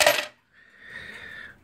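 Coins clatter and jingle into the metal catch tray of a homemade toy coin pusher, a sharp burst of falling coins followed by a ringing metallic rattle that fades out, close and loud with no talking.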